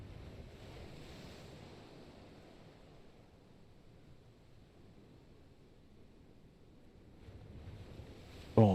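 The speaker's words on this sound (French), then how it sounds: "le bruit des vagues au loin qui s'éclatent contre les falaises" Distant waves breaking against sea cliffs under a low, steady wash of wind, soft and continuous, swelling slightly near the end before a brief bump of handling noise.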